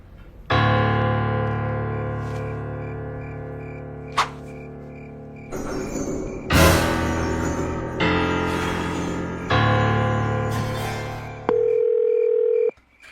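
A telephone line tone drones in long buzzing blocks broken by short gaps and a brief blip, ending with a higher, cleaner beep, loud and alone without speech.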